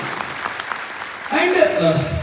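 A crowd at a World AIDS Day event in Jammu claps for performers and students. Scattered applause gives way to a voice speaking over it partway through.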